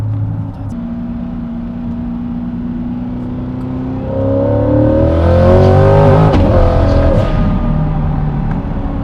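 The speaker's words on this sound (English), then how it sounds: "Dude, the blow-off valve sounds good." A 900-horsepower twin-turbo C8 Corvette with rear-mounted turbos drives on the street. The engine drones steadily, then rises and revs harder midway, and a sharp blow-off valve release cuts through around the peak before the engine settles again.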